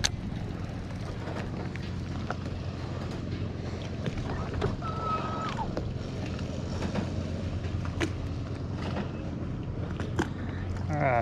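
Fishing boat maneuvering beside a brush pile on Lake of the Ozarks, a steady low rumble with wind buffeting the microphone and faint water noise throughout, no speech.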